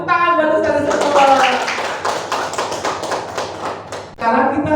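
A group of teachers and pupils at an Indonesian school training session claps for a female religious teacher, brisk rhythmic hand claps between bursts of speech, with a voice returning at the end.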